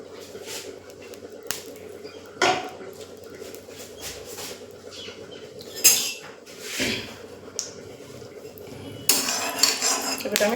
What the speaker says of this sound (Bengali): এবারে আমি ফুলকপিগুলো একটু নাড়াচাড়া করে নেবো